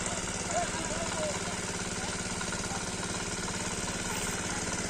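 An engine-driven pump machine drains a village pond, idling in a steady low, even drone that stays constant throughout at moderate distance.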